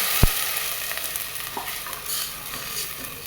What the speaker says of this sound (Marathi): यामध्ये आता दही घालूया।